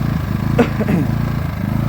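A small 2 kW inverter generator runs close by with a steady, quiet mechanical hum that stays even and continuous from start to finish.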